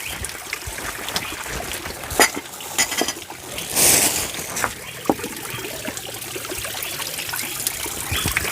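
Water trickles and pours while coffee is being made, an irregular close splashing stream with a louder gush midway and scattered clinks around it.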